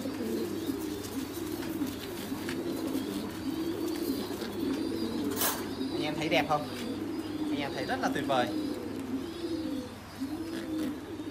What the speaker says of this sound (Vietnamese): đây là chim bồ câu mi mát anh em nhé